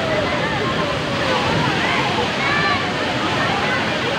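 A constant, loud rush of Taytay Falls in Majayjay, Laguna roars without letup, with a voice faintly audible beneath the noise.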